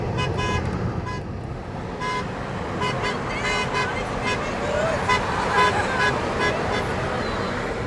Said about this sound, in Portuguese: Tem um carro nos chamando.